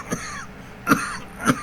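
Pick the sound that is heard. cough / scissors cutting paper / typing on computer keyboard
cough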